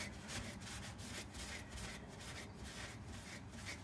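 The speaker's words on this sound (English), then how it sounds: "And we wipe it back. Use a degreaser just to make sure there's no oils on the surface." A cloth wipes degreaser across a metal fuel tank surface, giving a steady, close, broadband rubbing hiss with soft rhythmic strokes and no voices.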